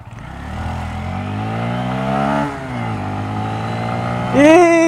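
A Honda MSX125 Grom motorcycle accelerates from a stop, its small single-cylinder engine climbing steadily through the revs, dropping briefly at a gear change, then rising again to a louder, sharp rev near the end.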